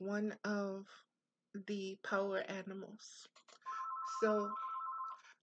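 A phone rings indoors in a steady electronic tone near the end, partly under a quiet, close voice that talks in short phrases before and over it.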